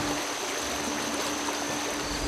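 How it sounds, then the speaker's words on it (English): Cedar Creek, a stream flowing into the North Fork of the Shenandoah River near Winchester, Virginia, gives a steady, soft wash of running water, a continuous gentle burble with no voices. "a stream called Cedar Creek bubbles into the North Fork of the Shenandoah River."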